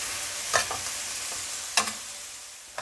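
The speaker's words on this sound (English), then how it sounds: "We're gonna let those just slowly saute and get some other things ready." Green beans and onions sautéing slowly in a pan give a faint, steady hiss, broken by a few sharp utensil clicks against the pan.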